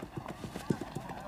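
Horses gallop away at speed in a 1969 western, rhythmic clip-clop hoofbeats pounding close over several strides while voices call out among the riders.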